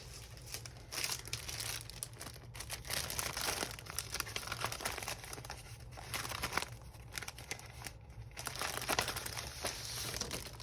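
Old music paper crumpled and crinkled by hand while making an art doll journal cover, steady dry rustling and crackling throughout with no talk.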